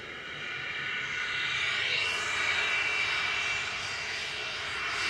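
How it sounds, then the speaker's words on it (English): A VistaJet Cessna Citation business jet departing Manchester Airport gives a steady jet whine and roar that swells slightly midway, heard from a moderate distance with no voices. "This is a VistaJet Cessna Citation departing to Palma de Mallorca."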